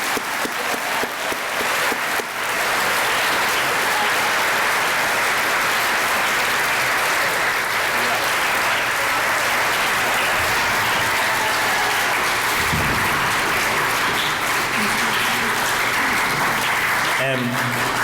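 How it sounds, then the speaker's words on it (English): An assembly crowd at a middle school Veterans Day event gives a loud, sustained round of applause for veterans, dense clapping that fills the room continuously with a faint voice briefly under it. "for our veterans, if we could have one last round of applause"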